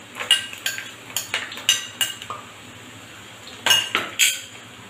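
Sliced onion, pandan leaves and garlic added to hot oil are stirred with a utensil, producing a rhythmic run of close scraping clinks against the pan, a pause, then another burst over a faint sizzle.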